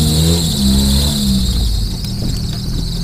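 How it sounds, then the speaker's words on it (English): A vehicle with no brakes lets out a sustained high-pitched squeal over a low rumbling engine, loud and close, tapering off after about a second and a half. "Why does it always squeak like that?"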